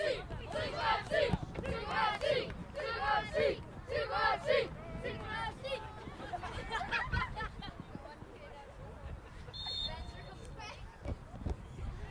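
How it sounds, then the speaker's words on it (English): Crowd of fans at a League1 Ontario men's soccer match between Sigma FC and Oakville Blue Devils, a loud continuous hubbub of cheering and chatter with a commentator talking over it. "the Sigma fans trying to get loud here to cheer on their team here"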